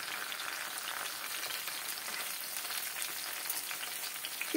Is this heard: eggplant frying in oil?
yes